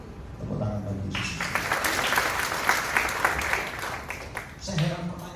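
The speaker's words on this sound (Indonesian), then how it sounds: "Tepuk tangan bagi Yesus." A church congregation at a Jakarta family blessing service breaks into loud, sustained applause that swells for several seconds, with a voice heard briefly at the start and end.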